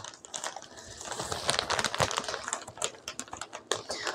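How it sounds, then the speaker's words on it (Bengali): A product package made in China is unpacked close by, with irregular crinkling, rustling and small clicks and taps as the packaging is handled. "আমরা এই যে এটাকে এখন আনপ্যাক করছি"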